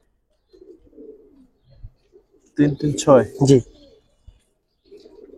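Giribaz pigeons of the silver Bagha breed from Old Dhaka coo in soft, brief bursts between quiet gaps, while someone speaks in a short, loud stretch in the middle.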